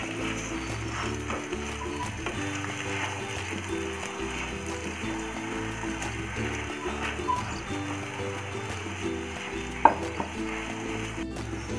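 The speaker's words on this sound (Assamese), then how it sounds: "একদম লো ফ্লেমত মই প্ৰায় 5 মিনিট মানৰ কাৰণে গুটিখিনি ফ্রাই কৰিম।" Mashed potato filling frying slowly over a low flame for a potato paratha, a soft continuous sizzle with a low rhythmic mechanical hum underneath and one sharp clink near the end.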